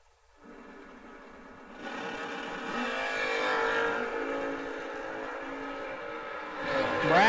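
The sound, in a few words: Chevelle wagons drag racing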